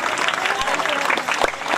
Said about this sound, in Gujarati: તાળીઓ પાડો ભાઈ.